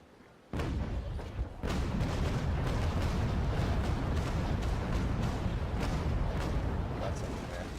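Cannon fire from warships in a naval video game, a sudden heavy blast followed by a second, then a dense, continuous rumbling barrage of booms with faint talk beneath.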